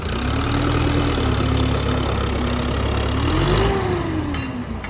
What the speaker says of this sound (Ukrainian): Витягуємо 10-25 з мановським мотором.